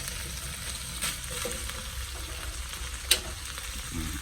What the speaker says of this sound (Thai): ใส่ลงไปคลุกเลยนะครับ ข้าวก็จะมีความอร่อยมากเลย